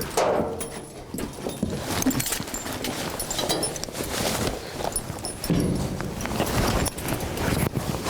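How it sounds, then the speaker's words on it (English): Heavy draft horses' hooves clop and thud in an uneven walking rhythm on hard ground at a ranch, close by, with faint rustling and creaking around them. "the Haythorns hitch up heavy horses"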